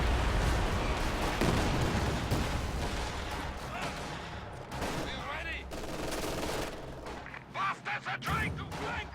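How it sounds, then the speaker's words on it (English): Katyusha rocket artillery pounds a house in the Company of Heroes 2 game, with a dense barrage of booming explosions and crackling fire that thins into scattered blasts and crashes, under a commentator's voice. "Katyusha is bombarding the house, probably gonna destroy it."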